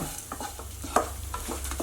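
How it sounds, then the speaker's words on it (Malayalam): Close frying sizzle over a medium flame with repeated scraping strokes of a spatula stirring in a pan while making chicken curry, steady and without talk. "നമ്മളൊരു മീഡിയം ഫ്ലെയിമിൽ വെച്ചിട്ട് വേണം വറുത്തെടുക്കാൻ"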